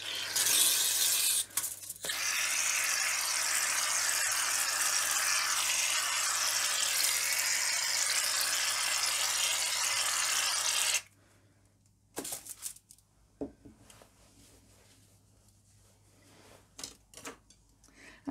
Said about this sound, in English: I'm going to begin by putting a layer of shaving foam onto my baking tray